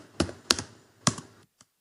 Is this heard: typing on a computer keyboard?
yes